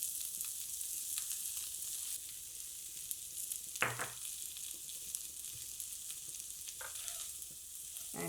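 Potatoes and okra dusted with besan stir-fry in a pan, a soft steady sizzle with a few faint scraping strokes of a spatula, fairly quiet throughout.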